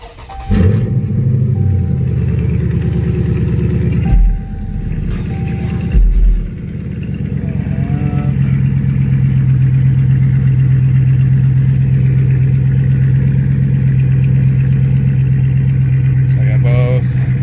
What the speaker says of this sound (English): turn the car on real quick.